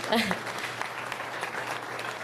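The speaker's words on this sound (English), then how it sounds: "Give a big round of applause for Councilman Chaim Deutsch." Moderate crowd applause at a town hall meeting, dense clapping throughout, with a voice briefly audible at the start.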